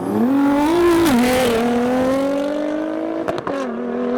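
A McLaren 720S and a Nissan GT-R drag racing, loud sustained engine roar with rising revs throughout, a brief gear-change dip near the end, no talk.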